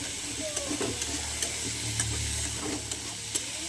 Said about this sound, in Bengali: হলুদ দিয়েছি, দিয়ে নাড়বো।